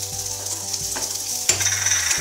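Roasted peanuts and chopped green onions sizzle in oil for South Indian lemon rice, a close, continuous frying hiss broken by a few scrapes of stirring and a sharper burst near the middle.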